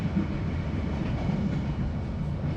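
Inside a passenger carriage of the Matarmaja train, a steady low rumble of wheels on rails fills the air with a continuous rolling drone and faint rhythmic clatter, without talk.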